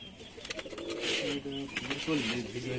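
Teddy pigeons, including a female, coo in low repeated bursts, with someone talking over the birds close by.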